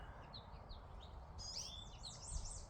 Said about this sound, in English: We got little Finch up there.